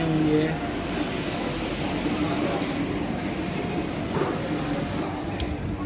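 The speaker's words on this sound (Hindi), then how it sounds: "हमारी ट्रेन आ चुकी है" Train arriving at a railway station on the Udaipur to Ajmer line: a steady low rumble and hiss of rolling carriages with faint rail clatter, heard up close under a person talking.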